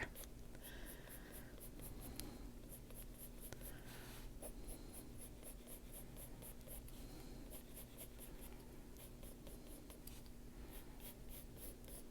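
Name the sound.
colored pencil drawing sharp lines on paper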